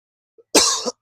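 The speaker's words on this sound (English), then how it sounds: "You guys don't want to hear me cough." A single short, sharp cough bursts out close by after a faint preceding breath, then cuts off into silence.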